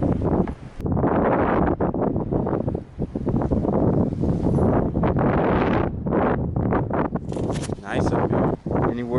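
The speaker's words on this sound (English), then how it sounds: "Man, it got windy real quick, huh?" Strong wind roars and buffets the microphone on a hillside hike with a view, a loud, continuous rushing with gusty surges and brief lulls throughout.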